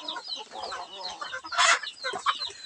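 Palawan native chickens on a farm cluck in a busy, overlapping chorus, with one loud, close squawk bursting out midway.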